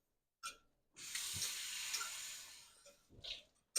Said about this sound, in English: 3/4 cup of water in on the dates